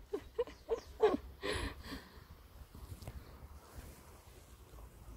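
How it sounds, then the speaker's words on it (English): Sporadic, gusty wind buffets the microphone outdoors while a kite is being flown, rumbling in uneven bursts with a few short knocks near the start. "The wind's too sporadic."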